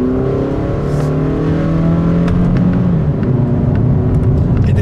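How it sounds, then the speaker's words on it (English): A 2023 Toyota Camry SE engine in sport mode accelerates hard under full throttle, with a continuous loud rising engine drone and climbing harmonics that shift through gears of its 8-speed automatic, heard from inside the car with no talk. "Whenever you press on the accelerator, and here we go, you can really hear it kind of working."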